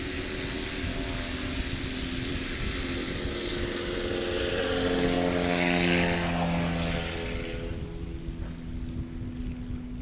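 A STOL light airplane's engine drones steadily at an airpark during a landing competition, a loud propeller hum that swells in the middle then eases off as it passes.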